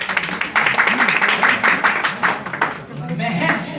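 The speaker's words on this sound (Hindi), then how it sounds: "इसको सबके लिए जोरदार तालियां हो" An audience clapping at a business plan presentation, a burst of fairly rhythmic claps that fades after a few seconds, with a voice speaking over it.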